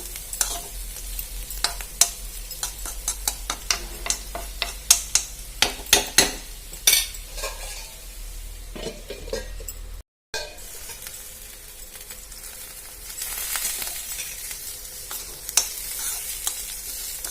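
Beetroot and carrot curry is stirred in a pan, with a spoon scraping and clinking against the metal over a steady sizzle, busier at first and then settling into gentle frying.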